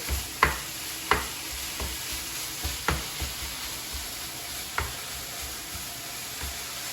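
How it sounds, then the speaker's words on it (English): Bacon frying in a pan over medium-high heat: a steady, close sizzle broken by a series of sharp scrapes and knocks as it is stirred at irregular intervals. "the bacon is sizzling, so I'm going to reduce the heat"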